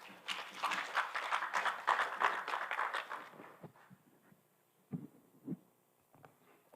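Applause from a conference audience at the 44th ISO COPOLCO Plenary 2023, a dense, fairly loud patter lasting about three seconds before fading into a quiet room with a few faint sounds.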